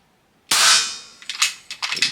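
An FX Impact air rifle fires a single sharp, loud crack that decays quickly, followed by a few lighter metallic clicks and clacks of the action, with no talk.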